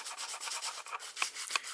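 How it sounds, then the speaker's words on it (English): Steady rhythmic rubbing of fine sandpaper on a fishing rod blank, quick back-and-forth strokes, close and fairly soft, with no voices. "I can just gently sand round this section"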